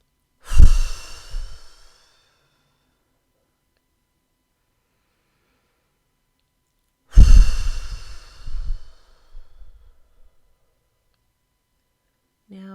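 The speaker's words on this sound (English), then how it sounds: "just take some intentional breaths" Two deep, deliberate breaths taken during a seated meditation, each a close, drawn-out sigh followed by a softer exhale, separated by several seconds of near silence.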